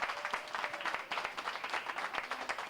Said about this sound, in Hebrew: איפה מחיאות הכפיים לאמא ואבא?